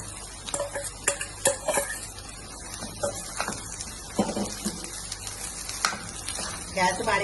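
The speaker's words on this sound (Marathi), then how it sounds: "आता ह्याच्यात आपण घालूया भात।" Cooked rice is stirred into a pan of fried onions and peas. Scraping and clinking of the spoon against the pan come in irregular bursts over a faint sizzle, and a voice speaks at times.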